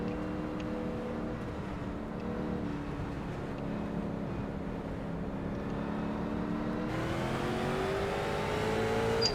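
A street stock race car engine in the iRacing sim roars under acceleration on an oval at the green flag, a steady droning whine that climbs in pitch after a shift, loud and continuous with no voices.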